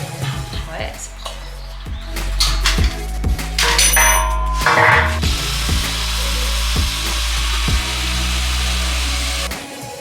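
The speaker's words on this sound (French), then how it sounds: "Là, mon chéri perce les trous dans le sol." A power drill bores holes into a floor to anchor rails for a room's wall framing, its motor whining in repeated bursts with a thudding background and a few tool clinks, up close throughout.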